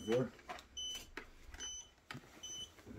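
Short high electronic beeps repeat at intervals amid faint whirring and mechanical noise from a small device nearby.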